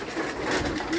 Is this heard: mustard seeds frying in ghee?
no